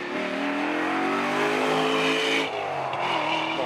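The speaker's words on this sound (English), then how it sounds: "Noisy car, you like that?" A noisy rally car engine revs hard and loud close by, a strong rising harmonic roar that dips briefly near the end before picking up again.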